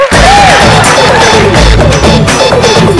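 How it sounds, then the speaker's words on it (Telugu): Loud studio audience applause on a Telugu comedy game show, dense rapid clapping that swells and continues throughout, close and full with no talk over it. "ఇద్దరికి గట్టిగా చప్పట్లు."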